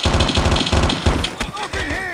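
Rapid automatic gunfire in the Call of Duty video game rattles in quick bursts, loud and close, with a pause and then more shots near the end while a voice talks over it.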